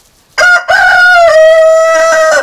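A rooster lets out a single long, loud crow at close range after a short opening note, the call holding steady before cutting off.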